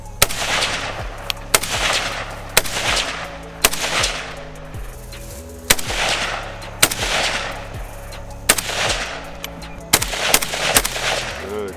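Rapid bursts of AK rifle gunfire crack out repeatedly at a shooting range, sharp close shots spaced in quick clusters with brief pauses between volleys, over a low steady background hum.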